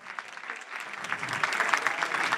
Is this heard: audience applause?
yes